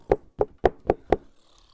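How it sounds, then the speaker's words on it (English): Five evenly spaced knocks on a wooden door, crisp and close, rapping in a steady rhythm and then stopping. "Outside, the tiger knocked"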